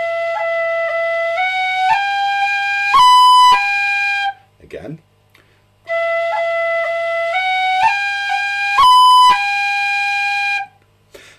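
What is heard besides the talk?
tin whistle playing The Dunmore Lasses with rolls and cuts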